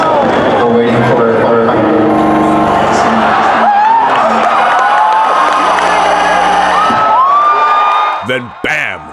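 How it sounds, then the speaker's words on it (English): A packed convention crowd at Blizzcon roars during the Overwatch Sombra reveal: loud, sustained cheering and whooping that rises and holds, then breaks into scattered shouts as it dies down. "the crowd starts cheering, knowing full well what this means"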